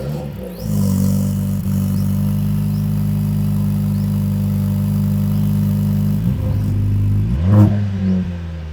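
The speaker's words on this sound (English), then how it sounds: "the pure rumble of AMG engine" Mercedes-AMG C43 four-cylinder engine with a steady deep exhaust rumble at a constant idle-to-cruise pitch, close and continuous, then a brief rev blip near the end.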